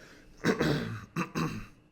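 A person clears their throat twice in quick succession, close and fairly loud, with short rough bursts and no talking.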